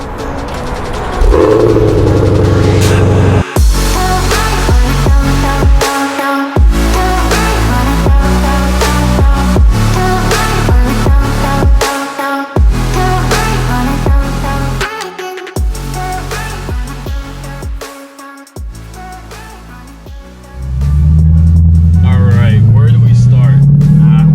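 A 2020 Shelby GT500 with a carbon fiber track pack is heard under loud background music, its engine surging and rising in pitch near the end.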